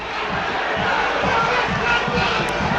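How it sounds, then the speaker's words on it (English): Home crowd at a Hartlepool United versus Gateshead National League football match jeers a player, a loud sustained roar of booing and shouting from the stands with rhythmic chant-like pulses. "And now listen to the home crowd."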